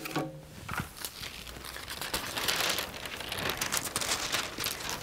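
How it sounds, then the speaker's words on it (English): Carrier sheet peeled away from heat transfer foil: a close, continuous crinkling and crackling rustle of thin film, rising slightly midway and continuing to the end, with no talking. "I'm peeling away that carrier"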